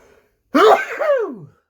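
A single loud, close human sneeze bursts out and trails off in a voiced exhale, with quiet surroundings before it.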